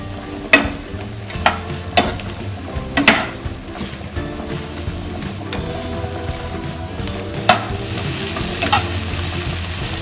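Chopped tomatoes frying in a pan for butter chicken, a loud close sizzle broken by sharp stirring knocks and scrapes of a spoon against the pan, busier near the end.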